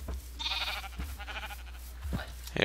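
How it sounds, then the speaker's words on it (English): Sheep bleat in the video game Minecraft, two wavering bleats close by in quick succession, with a person talking around them. "I'm trying to get the sheep."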